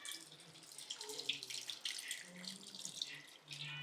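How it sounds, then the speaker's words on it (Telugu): Tamarind juice pours into a Nellore-style fish curry in a short, faint, splashy trickle with uneven gurgles. "ఇప్పుడు చింతపండు పులుసు పోసుకోవాలి."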